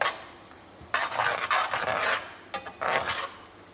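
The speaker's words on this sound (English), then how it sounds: "With a spoon, just give it a stir." A spoon scrapes around a pan as flour is stirred into a roux, with bursts of rasping, scraping strokes separated by short pauses, close and fairly loud.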